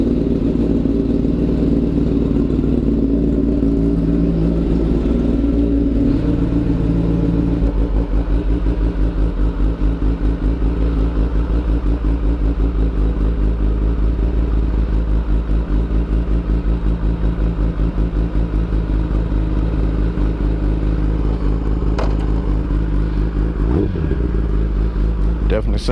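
A 2020 Kawasaki ZX10R fitted with an Akrapovic link pipe and slip-on exhaust, starting up and idling loudly then revving in repeated sharp bursts, close by, with a person speaking over the engine.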